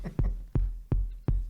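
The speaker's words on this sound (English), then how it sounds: "Oh yeah, we got a heartbeat going." A heartbeat sound effect plays, four deep, thumping low beats at an even pace, each followed by a fading decay, loud and close with no talk.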